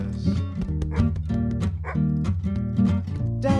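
A dog barks, yips and whimpers at a door in a close, busy flurry of short excited calls with whiny tones between them.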